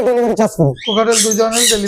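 Close, loud calls of talking parrots and other birds for sale in Bangladesh: harsh squawks and whistles overlapping in a busy, continuous chatter.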